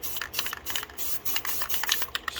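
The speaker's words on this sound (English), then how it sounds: "spray it like that, and you get this cloud-like effect." Spray paint can hissing in short repeated bursts over torn paper held above a painting to make cloud shapes, close and fairly steady with brief gaps between sprays.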